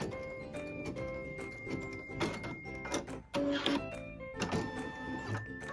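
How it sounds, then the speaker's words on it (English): An embroidery machine stitches the stitch line on a pieced quilt block, giving a busy, close mechanical chatter of rapid needle strikes and whirring hoop movements that shift in rhythm as it travels, with no talk over it. "And now it's stitching the stitch line."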